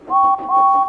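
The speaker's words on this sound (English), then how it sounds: "Thomas and Edward were busy in the yard when they heard a whistle" A train engine's steam whistle sounds in a railway yard: one sustained, bright two-tone blast lasting about a second, with a slight dip in the middle, loud and close with nothing else over it.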